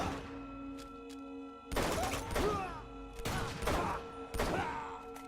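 Pistol fire in Uncharted 2: Among Thieves, a run of sharp game gunshots in bursts of several shots with short pauses between, fairly loud over a steady low background hum.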